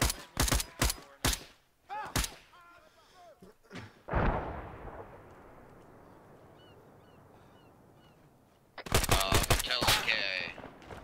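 Sharp gunshots crack in quick succession in a shooter game, fired through a floor from a second-floor balcony, a loud burst at the start, a long fading rumble, then another rapid volley at the end; little talk.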